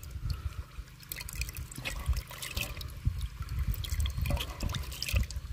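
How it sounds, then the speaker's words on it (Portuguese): Drops of water splashed into a gold pan holding gravel, small irregular trickles and drips close up over a faint background. "só uns pinguinhos de água"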